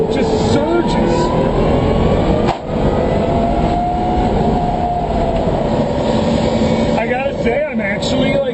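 Electric BMW M3 Pikes Peak race car accelerating hard, a steady high-pitched motor whine rising under wind and road roar, with people talking over it inside the car.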